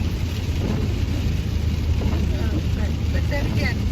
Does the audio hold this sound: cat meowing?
no